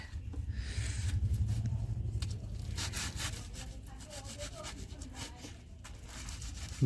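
A knife cuts potatoes on a board for Mughlai aloo dum, repeated close scraping and chopping strokes with soft rubbing, while faint voices talk in the background.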